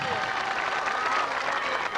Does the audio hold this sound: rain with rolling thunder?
no